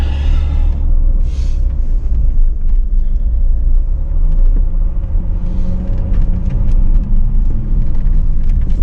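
A four-wheel drive vehicle crawls along a rough dirt track on the Holland Track, its engine rumbling low and steady close by with continuous road noise and occasional knocks from the terrain, no voices.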